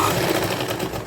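Sewing machine running steadily while top-stitching a girls' cord set, a loud continuous whirring hum heard up close for about a second with no pauses and no voices.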